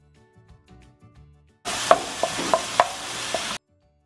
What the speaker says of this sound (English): we want to get the mushrooms nice and brown. After sauteing for a little while